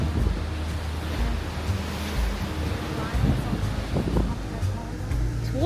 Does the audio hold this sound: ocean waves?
yes